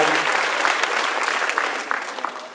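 Applause from a seated audience at a business presentation welcoming guest directors, a dense, close burst of many hands clapping that gradually thins and fades over a couple of seconds.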